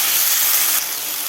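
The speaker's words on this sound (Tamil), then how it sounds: "வெங்காயம் நல்லா இந்த அளவுக்கு வதங்கினதுக்கப்புறம் 2 தக்காளி கட் பண்ணி வச்சுருக்கேன், அதையும் போட்டுக்கலாம்" Tomatoes and onions sautéing in a pan for a drumstick poriyal give off a loud, steady hiss of sizzling, close and continuous with no talking.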